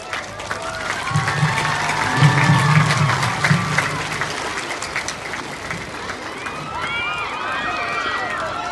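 A crowd at a flag-raising ceremony applauds and cheers as a small child climbs the flagpole after the rope snapped. Continuous clapping blends with shouting voices and chatter close by.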